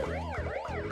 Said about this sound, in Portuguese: Carro de polícia.